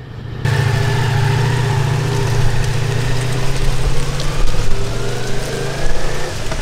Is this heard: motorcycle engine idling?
yes